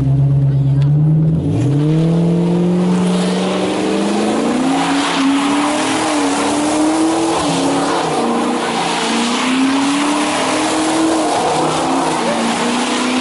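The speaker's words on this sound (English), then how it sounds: "Mustang's coming" A Ford Mustang roaring past on a race track, its loud engine note climbing in pitch through the gears with tire noise, close and dominant as people talk in the background.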